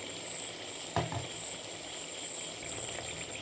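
Chopped capsicum hits a hot pan for chilli chicken, setting off a steady, close sizzle of frying with a brief clatter as the pieces drop in and stir.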